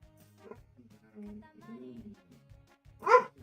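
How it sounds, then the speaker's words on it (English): A dog barks once, fairly close and loud, after a stretch of quiet low sounds and faint whimpering tones. "Sorry about the barking."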